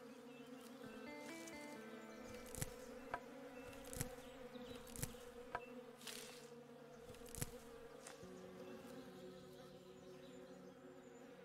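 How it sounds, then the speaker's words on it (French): Bees in the video game Above Snakes buzzing steadily in a quiet hum, several insects droning together with brief louder passes and faint clicks, no talk. "Les abeilles, je pense qu'elles vont m'attaquer si j'arrive."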